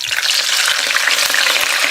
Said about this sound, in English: we're going to fry these potatoes